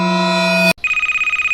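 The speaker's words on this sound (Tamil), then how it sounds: "ஓ, ஃபோன் அடிக்குதா?" A loud in-game phone rings in the horror video game Sewer Call, a sustained electronic ring that snaps into a rapid, pulsing trill with an even rhythm.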